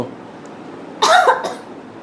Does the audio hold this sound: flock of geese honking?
no